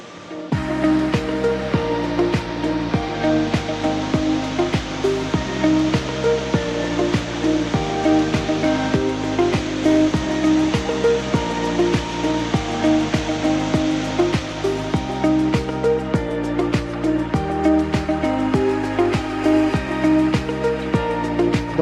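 Water from a Meghalaya waterfall plunges off a mighty rock into a bowl-shaped natural pool, giving a loud, steady, unbroken rush that holds throughout with no voices.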